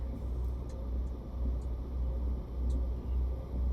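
A truck engine idling and running continuously in American Truck Simulator on an icy Alaskan highway, a steady low rumbling drone with faint high ticks above it, no talk.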